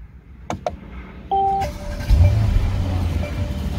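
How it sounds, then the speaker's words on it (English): A Mercedes-Benz S-Class engine cranks and catches, settling into a low steady idle after a few clicks and a brief tone. "start the engine"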